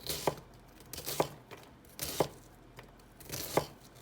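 Knife slicing and dicing an onion on a cutting board, a series of sharp, crisp cuts about once a second with a brief papery tearing quality, close and alone.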